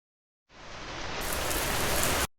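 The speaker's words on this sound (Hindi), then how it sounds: "या हो तेज बारिश की बौछार" Heavy rain shower pouring down as a dense, steady hiss that swells in quickly and holds loud and close for about two seconds, with no voices.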